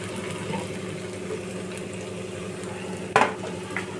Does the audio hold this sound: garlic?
yes